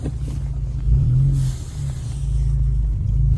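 A car with summer tires reverses on snow, its engine droning and revving loudly in a steady low rumble that rises and falls as the wheels struggle for grip.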